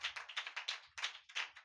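Audience at a Telugu religious sermon clapping hard together in a steady series of sharp, loud hand claps, with brief pauses between bursts and no voices.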